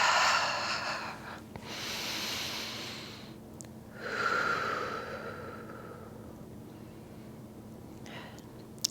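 A person breathing deeply while standing upright in a yoga session, slow audible inhales and long airy exhales, close to the microphone with a faint hum underneath.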